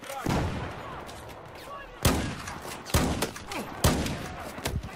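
Heavy gunshots from a weapon in Battlefield 4 on the Baku map, on PS4. Four loud, booming reports come roughly a second apart, each with a rumbling tail, and quieter shots fall in between.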